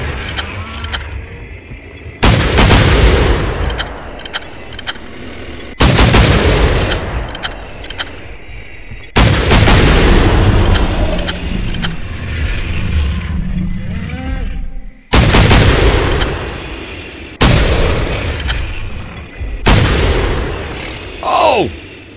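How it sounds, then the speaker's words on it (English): Loud, heavy rifle shots at a T. rex in theHunter: Primal, about six widely spaced blasts, each ringing out and fading over several seconds, with no talk. "Trying to shoot it in the heart."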